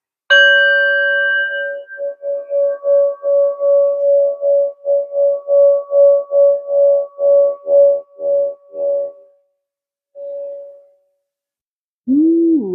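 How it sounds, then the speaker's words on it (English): A singing bowl is struck once and rings clearly with a long sustained tone that pulses and wavers as it slowly fades. It rings alone in near silence, with a brief return of the tone near the end. "I just want to ring in the bowl and let's get started."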